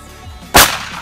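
A single sharp gunshot fired at a target, a sudden loud crack about midway through with a short decaying tail over faint background noise.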